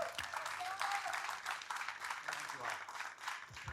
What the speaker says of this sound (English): Nice round of applause for John.